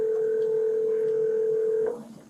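A telephone dial tone hums steadily and loud for nearly two seconds, then cuts off as dialing begins, leaving faint room noise.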